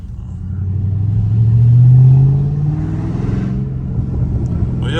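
Loud exhaust from a Dodge Charger Scat Pack swells into a deep, close rev that peaks and eases back to a rumbling idle, heard on its own.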